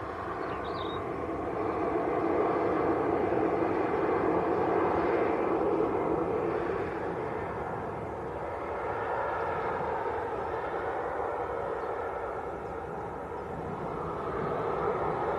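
A plane arriving at Manchester Airport from Zakynthos gives a continuous rushing engine roar that rises and eases in gentle waves over about fifteen seconds, heard alone without speech.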